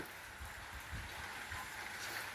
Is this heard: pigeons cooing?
no